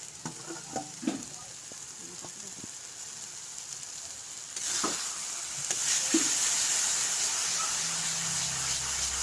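Magur fish fried in spiced oil in a pan, a steady sizzle running throughout that swells louder midway as the fish goes in, with a few scraping touches early on and no talking.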